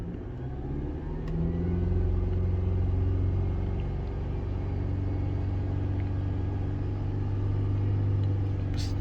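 Mercedes SLK engine with a lean fuel-trim fault held at about 3000 RPM, a steady, loud mid-low hum that rises slightly early on and then stays even, with no talk.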